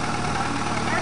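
A car engine idles in a steady, even low drone for a brief moment, fairly faint and unbroken, with a hint of voices in the background.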